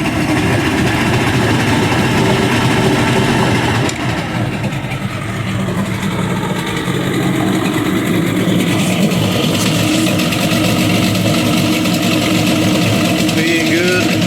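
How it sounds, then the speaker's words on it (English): An Evinrude 150 outboard boat engine runs steadily after a hard cold start, a loud continuous rumble with a slight dip in level partway through and no voices over it. "Give it a little bit of throttle."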